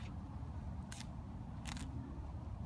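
A sharp blade slices through plastic weed cover in two short, faint bursts, each a brief rasping cut, against a quiet background hiss.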